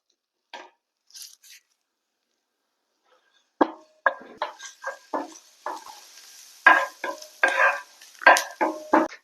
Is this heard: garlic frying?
yes